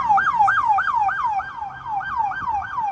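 A siren sound effect wails in rapid repeating up-and-down sweeps, loud and steady across the whole stretch.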